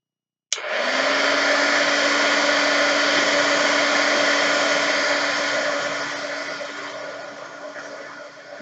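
A heat tool blasts a steady, loud whooshing roar while heating a foam-layered wood stamp, switching on abruptly and running unbroken, easing slightly toward the end.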